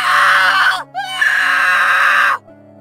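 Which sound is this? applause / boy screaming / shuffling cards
boy screaming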